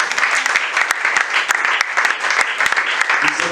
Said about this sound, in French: Nous pouvons acclamer le Seigneur.